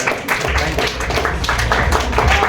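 Keynote audience at a storytelling event applauding, a dense, steady wash of clapping sustained loudly throughout with crowd noise underneath.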